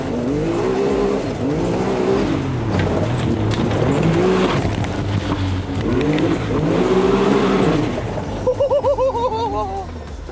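A buggy driving in four-wheel drive fills the stretch with a loud, close engine drone that rises and falls in repeated revving sweeps, with a brief choppy stutter near the end and talk mixed in.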